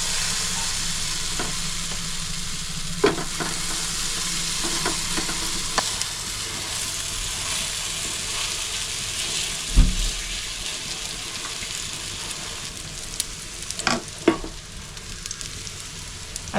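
Mango batter fries in a lightly oiled pan with a steady, moderate sizzle. A few sharp clicks and taps stand out over the hiss, and no one speaks.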